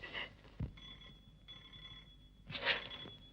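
An old-fashioned telephone rings with a bright trilling bell, two bursts separated by a quiet pause, fairly soft and close, in a classic 1952 Bollywood film.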